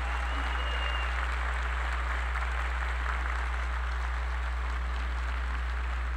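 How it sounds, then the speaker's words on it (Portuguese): An audience at the opening ceremony of a music festival in a Rio de Janeiro concert hall applauds an orchestra and children, steady dense clapping that is fairly faint and distant, under a low electrical hum. "Uma salva de palmas redobrada aqui para eles"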